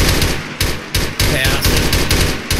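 Machine gun fire in Arma erupts in several loud, rapid bursts separated by short gaps, dense and close, with no talking.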